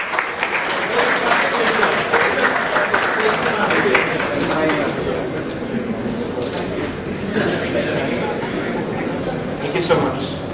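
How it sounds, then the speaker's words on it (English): An audience at a leadership conclave applauds at length, a dense, loud wash of clapping that fills the hall and slowly tapers toward the end. "So if we can open applause, please."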